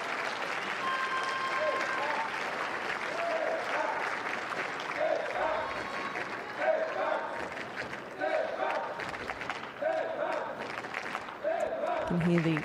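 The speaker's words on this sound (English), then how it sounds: "You can hear the French supporters in the crowd there chanting for Stéphane Houdet" French supporters chant for Stéphane Houdet in the crowd at a wheelchair tennis match at the 2012 London Paralympic Games, a rising and falling chant with bursts of clapping and crowd noise under a commentator's voice.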